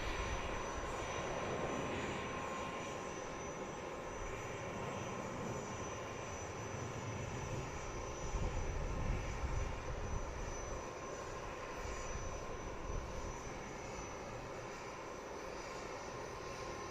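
A Boeing P-8 at an airport produces a steady, broad jet-engine roar that holds for the whole stretch, fairly loud and continuous with slight swells, no voices.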